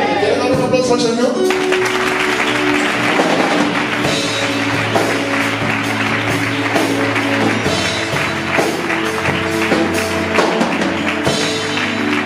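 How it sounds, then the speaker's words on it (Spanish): A church congregation claps for the Lord during a sermon, with scattered claps over music and sustained instrumental tones, alongside voices and shouting. "¿Quiere dar un aplauso al Señor?"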